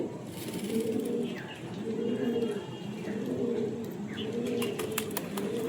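Pigeons coo in repeated low, throaty rolling calls at close range, with faint chirps and some background noise around them.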